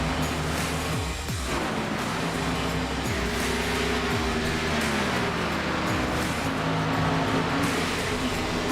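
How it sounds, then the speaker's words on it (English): Engines hum and whine with shifting pitch, several revving and passing in overlapping sweeps under a constant mechanical drone, iRacing NASCAR Xfinity Series cars on track at Daytona. "That is cars on track as we get ready to go racing."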